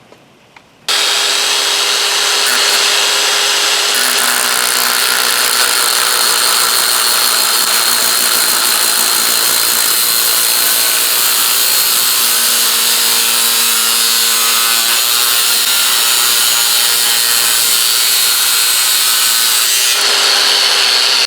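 A power tool running wide open at its highest setting of 10,000 RPM cuts into a workpiece, a loud, continuous high-pitched whine and rasp that starts abruptly and holds steady for about twenty seconds.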